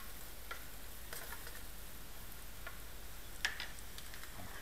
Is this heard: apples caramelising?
yes